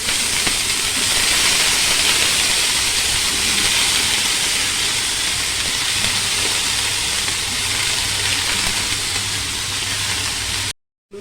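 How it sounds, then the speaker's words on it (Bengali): Brinjal drops into hot oil with curry leaves, cumin and mustard seeds, producing a loud, steady hissing sizzle that fills the whole stretch before cutting off abruptly. "এখন ফ্রাই হয়ে গেছে, এখন আমি বেগুন দিয়ে দেবো।"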